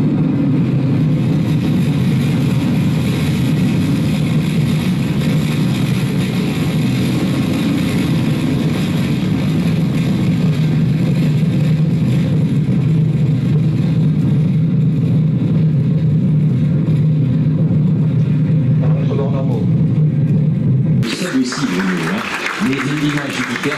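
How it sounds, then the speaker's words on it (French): A rocket's Vulcain engine roaring at ignition and lift-off, a dense, steady low rumble that holds for about twenty seconds before shifting and breaking up near the end. "Allumage du moteur Vulcain."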